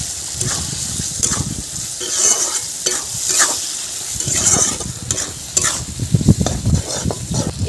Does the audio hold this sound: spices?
yes